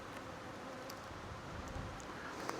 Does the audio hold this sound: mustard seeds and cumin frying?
no